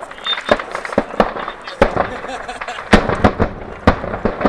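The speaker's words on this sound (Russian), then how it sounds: "Ой, ой, фейерверк! Победный фейерверк!" An artillery-struck KrAZ military truck loaded with ammunition cooks off in a rapid series of sharp, loud cracks and pops at irregular intervals, like a fireworks display, with excited voices talking over it.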